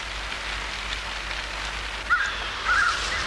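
Early morning rain falling steadily in northern forest, a soft continuous patter on surfaces with a few brief bird calls breaking through near the end.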